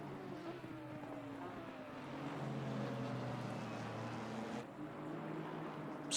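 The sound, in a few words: GT4 race car engines at the rev limiter, from the video game Assetto Corsa Competizione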